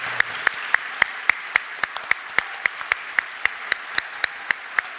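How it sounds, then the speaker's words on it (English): Applause for the writer Lionel Shriver at a live podcast recording comes as crisp, evenly spaced claps in a steady rhythmic beat, about four per second, lasting the full five seconds with no talking. "round of applause for Lionel Shriver"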